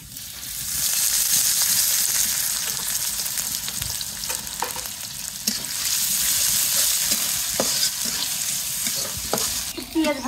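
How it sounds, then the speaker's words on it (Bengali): Chopped onions fry in a pan for greens made with kalmi and pumpkin leaves, a steady loud sizzle broken by scraping stir strokes that come at intervals. "পেঁয়াজ ভাজা হয়ে গেছে"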